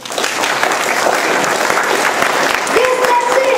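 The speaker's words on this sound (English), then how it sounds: "If you believe, clap your hands." A theatre audience at a Peter Pan stage performance clapping hands in steady, dense applause from start to end, with a voice rising over the clapping near the close.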